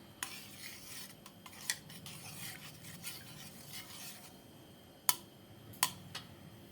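Kadhi batter being stirred and mixed in a pot, a steady soft scraping swirl with faint clinks of the spoon against the metal and a few sharper knocks near the end, with no talking.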